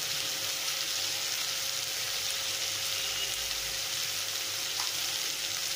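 Onions with turmeric and salt sauté in a pan for a Sri Lankan onion sugar sambal, making a steady, even, moderately quiet sizzle throughout with no voices.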